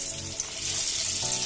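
Naga bird's eye chillies drop into hot mustard oil and fry, giving a dense, close bubbling sizzle that swells and wavers over a short moment.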